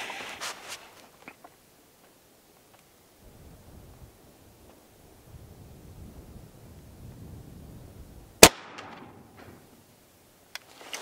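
A single sharp, loud crack from an Evanix REX .50 caliber air rifle fired at outdoor targets rings out amid quiet wind noise, with a fainter click near the end.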